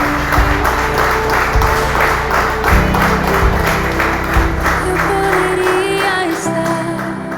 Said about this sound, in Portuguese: E assim eu agradeço essa rica oportunidade e as palmas logo ao Senhor Jesus